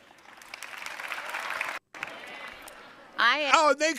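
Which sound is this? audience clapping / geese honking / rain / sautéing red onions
audience clapping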